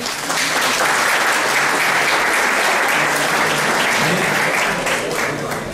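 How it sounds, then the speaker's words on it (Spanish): Sustained audience applause at an academic lecture series event in Mexico, loud, dense and steady for the whole stretch with a faint voice underneath. "Un aplauso, por favor."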